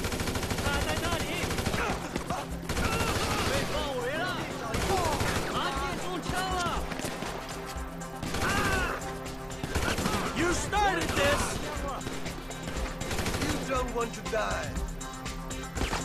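Assault rifle fire in GTA V crackles in repeated bursts through a dense, busy game soundscape, with voices and other action layered underneath across the whole stretch.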